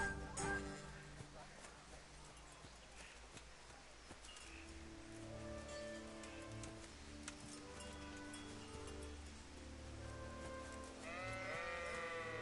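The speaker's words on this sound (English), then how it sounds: "And there are some sheep," Sheep in the video game Kingdom Come: Deliverance bleat a few times in drawn-out, wavering calls over a soft, rustling background with light music, heard at moderate distance.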